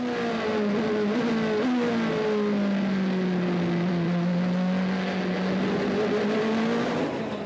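A Rebellion LMP1 prototype race car at the 24 Hours of Le Mans is recorded on board, its engine whining loudly and continuously as the pitch falls and rises through a long curve and acceleration.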